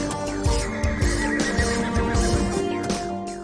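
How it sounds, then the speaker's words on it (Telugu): A powerful, wild horse on a stable or training ground neighs loudly and close, its whinny rising and falling in repeated bursts with a faint clip-clop of hooves underneath. "ఆ గుర్రం."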